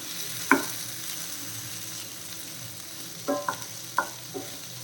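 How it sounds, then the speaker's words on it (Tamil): Onion chicken fries in a pan with a steady sizzle, broken by a few scraping clinks as the pieces are turned over. "ஒரு நிமிஷத்துக்கு ஒருக்கு இந்த மாதிரி திருப்பி போட்டுக்கோங்க"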